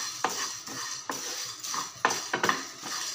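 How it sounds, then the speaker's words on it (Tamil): Black sesame, cumin and dried curry leaves dry roasting in a pan over low heat, stirred with repeated scraping and clinking strokes of a utensil against the pan, close and moderately loud with no talk. "இப்போ இது எல்லாத்தையும் நல்லா கருக விட்டுறாமல் சிம்மிலேயே வச்சு நல்லா வறுத்து எடுக்கலாம்."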